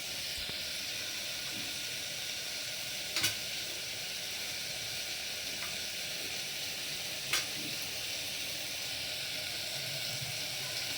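Tomatoes sizzle steadily as they sauté in a hot pan, with a couple of sharp clinks from stirring.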